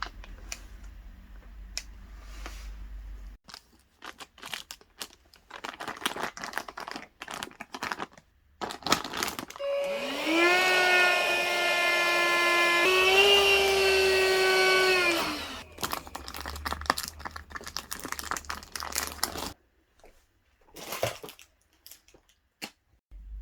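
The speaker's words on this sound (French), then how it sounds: "je vais m'atteler à aspirer les affaires d'été" A vacuum pumping the air out of storage bags packed with summer clothes: a rising mechanical whine that lasts several seconds, set between stretches of rustling and handling noise, close and fairly loud.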